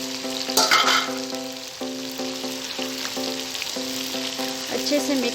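Sizzling frying of about 1.5 kg of onions in a large pot for chicken biryani, a steady close crackle under a sustained tonal hum with brief louder bursts as they are added and stirred.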